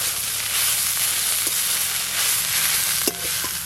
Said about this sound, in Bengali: চাপা খুলে একবার নেড়ে নেব